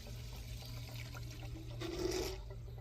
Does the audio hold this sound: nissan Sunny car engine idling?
no